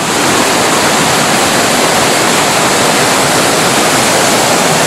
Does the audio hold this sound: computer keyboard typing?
no